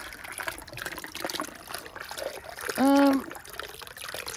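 Hot spring water runs steadily into a bath, a continuous soft trickle and splash, with a short tonal cry briefly cutting in near the middle.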